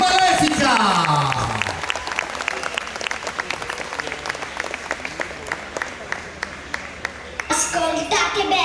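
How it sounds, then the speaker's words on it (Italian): An audience at a cosplay contest applauds a contestant playing Maleficent: dense, steady clapping from a sizable crowd, fading slightly before a short swell near the end, with an announcer's voice at the start. "Vi chiediamo l'applauso per la numero 8, Lucia, che interpreta Malefica!"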